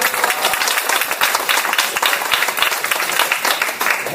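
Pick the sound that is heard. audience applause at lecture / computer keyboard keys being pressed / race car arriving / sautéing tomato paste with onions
audience applause at lecture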